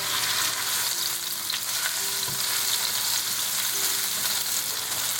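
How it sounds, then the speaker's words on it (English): Onion fries in vegetable oil with cumin seeds, giving a steady, dense sizzle close by with faint clinks of stirring, no voices. "We're going to cook our onion for 1 minute."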